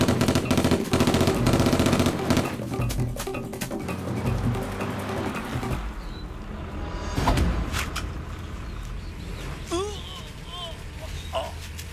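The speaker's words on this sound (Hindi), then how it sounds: "गोली मार रहा।" Gunfire in a Hindi-dubbed South Indian action movie: dense rapid bursts of shots at the start, thinning into scattered reports under voices and shouting, with a later whistling, whooshing effect.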